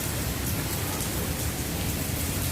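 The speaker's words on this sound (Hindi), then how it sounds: "वो होता है ना मूसलाधार बारिश, वो हो रही है इस टाइम।" Torrential monsoon rain pours down as heard from under a shed, a dense, loud, unbroken hiss of heavy downpour with no talk.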